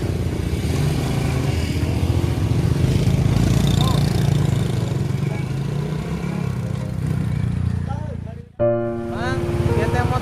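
A motorcycle engine idles and runs steadily with a low, buzzing mid-pitched drone, briefly cutting out near the end before picking up again, while voices talk over it.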